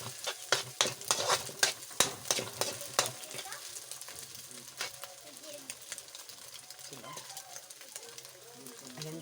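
Leftover rice is stir-fried for Shanghai rice, with brisk scraping and clattering stirring strokes over a soft sizzle that settle into quieter frying, while faint voices talk in the background.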